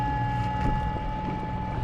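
A TEMO 450 electric outboard motor runs at full power, pushing a small dinghy across the water at about three knots, giving a steady, close hum with a constant tone, water wash and some wind noise, and no talking.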